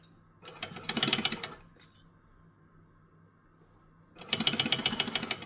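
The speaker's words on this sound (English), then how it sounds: "we're going to stitch and back stitch" A sewing machine stitches a boxy fabric pouch in two loud bursts of rapid mechanical whirring, the first about a second long and the second longer, separated by a quiet pause with a faint clink.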